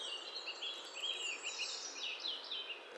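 A bird calls from the trees with a series of short, high chirps and trills, moderately distant and fairly faint, over a soft outdoor background.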